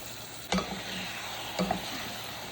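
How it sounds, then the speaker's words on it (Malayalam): Prawns fry in hot coconut oil in a pan with a steady, even sizzle, broken by two brief sharp clicks or spatters, and no one speaking. "ഇതിലേക്ക് കുറച്ച് വെളിച്ചെണ്ണ ഒഴിച്ചിട്ട് നമ്മുടെ ചെമ്മീൻ വറുക്കാൻ വേണ്ടി പോകും"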